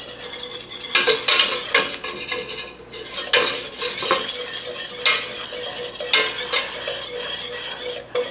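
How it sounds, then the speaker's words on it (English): A spoon or whisk stirs a flour and paprika roux in a pan for a mac and cheese sauce, scraping and clinking steadily against the metal with a soft sizzle underneath, close and continuous with no talking. "Stir, stir, stir. Break up all the big chunks."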